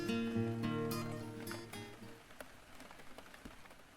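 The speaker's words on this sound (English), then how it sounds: "Rain sounds!" Steady rain patters down in a backyard by a porch within a farming video game, a soft wash of droplets under a fading sustained musical tone, with a few sharper drips standing out toward the end.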